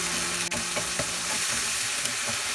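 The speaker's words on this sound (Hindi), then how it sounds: "अभी 3-4 मिनट हमें मसाला सौटे करना है।" Masala sautéing in oil in a pan for a Bengali-style tilapia curry: a steady, close sizzle and crackle of frying with occasional faint stirring scrapes and clicks, continuous and unbroken, with no talking.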